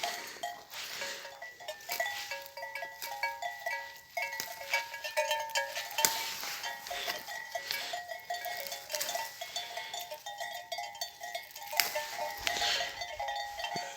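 A newly bought flock of goats and sheep, with cowbells clanking and jingling steadily and the animals bleating now and then, on a farm as winter begins; the sound is continuous and close, with no talk.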